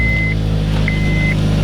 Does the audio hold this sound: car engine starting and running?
yes